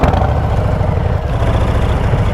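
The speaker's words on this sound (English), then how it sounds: "These exhausts, these pipes are loud. This is a loud motorcycle." A Harley-Davidson Low Rider ST motorcycle with a 117 engine, a catalytic converter and loud exhaust pipes rumbles steadily and close, a deep, continuous engine drone with no break and no talk.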